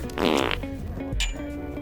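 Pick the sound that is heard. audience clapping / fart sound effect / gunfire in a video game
fart sound effect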